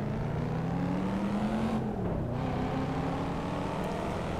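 A race car engine in the video game Assetto Corsa, droning steadily with a rising pitch as it accelerates, a brief dip at a gear change, then climbing again, loud and alone.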